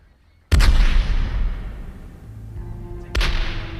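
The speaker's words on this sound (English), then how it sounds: "the citizens of Havana awoke to a cannon shot." A cannon fires at sunrise over Havana for the 1912 burial-at-sea rites of the USS Maine. Two loud, deep booms are heard, the first rolling off in a long rumbling decay before the second strikes near the end.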